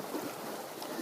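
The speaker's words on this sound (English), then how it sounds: "Try and see if I can get a few of those waves coming in." Sea waves wash in on a shore, a broad close hiss of surf mixed with wind rumble on the microphone, steady and without talk.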